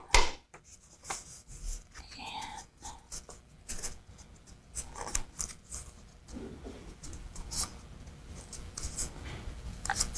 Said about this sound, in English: cut it down so it is the same height as the paper roll